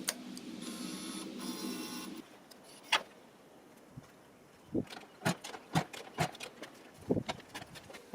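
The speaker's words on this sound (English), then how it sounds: "It's new battery startup time. Turn the ignition key on." When the ignition on a Yamaha RZV500 motorcycle with a new battery is switched on, a whirring hum runs for about two seconds, followed by a series of sharp, close mechanical clicks at irregular intervals.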